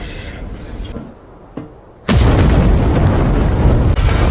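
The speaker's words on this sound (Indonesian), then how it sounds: "Ledakan dari laboratorium Dragon itu" A rumbling low murmur and a single sharp knock give way to a sudden, loud explosion as Dragon's laboratory blows up in the Red Sonja film, the blast roaring on steadily for the remaining seconds.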